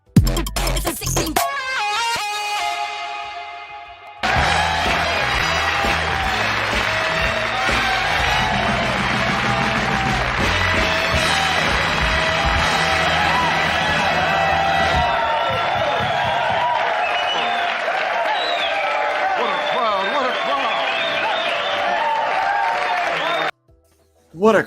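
A comedy show audience applauds and cheers loudly for about twenty seconds, a dense wash of clapping mixed with whoops and shouts. It starts after a brief burst of other sound and cuts off sharply near the end.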